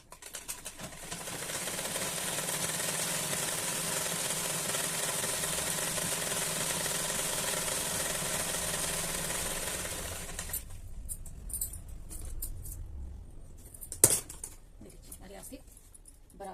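Sewing machine stitching the sleeve seam of a full-size round-neck kurti; a steady, continuous mechanical whir runs about ten seconds, then gives way to quieter handling noises and a sharp click.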